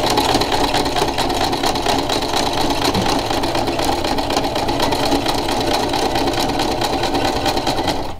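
A sewing machine stitches steadily for the whole stretch, a continuous close mechanical whir with a fast even rattle and no talking.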